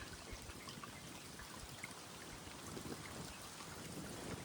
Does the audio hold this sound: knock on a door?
no